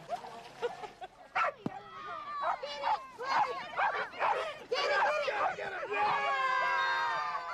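Several dogs at an adult summer camp bark and yip excitedly in short, overlapping bursts, close by and lively, mixed with whimpers and a busy crowd-like background.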